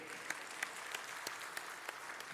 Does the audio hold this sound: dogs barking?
no